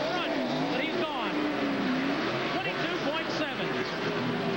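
Ricky Craven's NASCAR Cup car engine revs in the pit lane at Loudon during the 1997 Jiffy Lube 300, rising and falling whines under crowd and track noise while a commentator talks over it.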